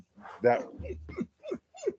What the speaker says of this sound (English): Go eat your food, dog.